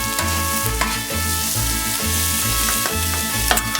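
Mushrooms and spinach sizzle loudly on a hot Blackstone griddle as they are stirred and mixed, a steady frying hiss with repeated scraping and tapping of a spatula on the flat-top surface.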